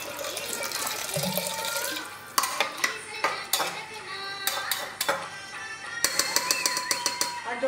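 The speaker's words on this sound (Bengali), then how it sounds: "আমি প্রেসার কুকারে ঢেলে নিয়েছি, এর মধ্যে পরিমাণ মতো জল দিয়ে দেবো।" Water poured into a pressure cooker holding boiled chickpeas, with a brief splash followed by repeated clinks and knocks of metal cookware and a spoon in a home kitchen.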